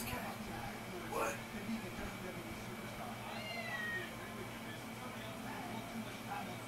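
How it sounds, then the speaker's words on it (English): Cat meowing in the Final Fantasy 7 Remake video game, a couple of faint, brief meows over a steady hum of background ambience with some quiet talk. "Wedge's cat."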